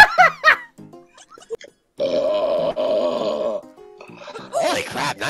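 A loud, drawn-out vocal burp follows a few short voiced grunts, with a further groaning burst near the end; voices are heard around it.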